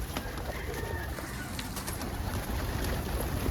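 Pet pigeons or doves coo softly while being fed garden greens and weeds outdoors, low murmuring calls repeating over a steady background hiss, fairly near and continuous.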